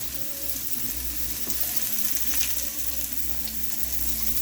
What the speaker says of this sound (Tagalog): lutuin lang natin ng konti ang ating sibuyas at bawang. Sa kawali lang natin na maliit ginisa.